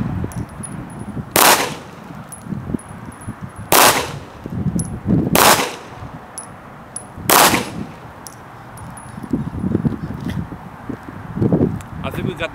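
Six rounds from a Remington RM380 pistol fired at an outdoor target, each a sharp loud crack spaced a couple of seconds apart, with rustling and handling noise between shots.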